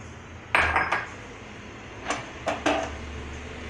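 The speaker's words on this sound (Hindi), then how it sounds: "तिल को हम मीडियम फ्लेम पे भूनेंगे और इसको लगातार चलाते रहेंगे जिससे ये जले नहीं।" Sesame seeds dry-roast in a pan over a medium flame, with a low background hiss and a few sharp metallic clinks and scrapes from a spoon stirring against the pan in two brief bursts.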